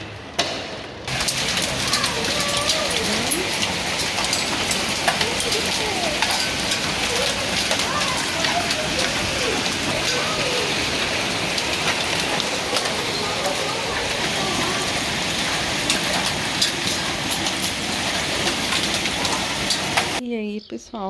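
Hail hammers an attic window in a dense, loud, unbroken patter that runs for about twenty seconds, like a heavy downpour on glass.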